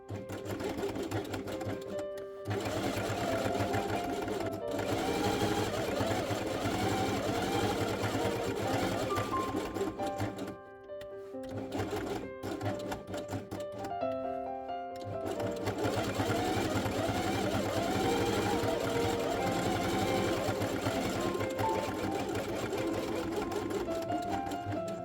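A sewing machine stitches felt pieces along their edges for a quiet book page, a fast steady whir running in long bursts with a few brief pauses between runs.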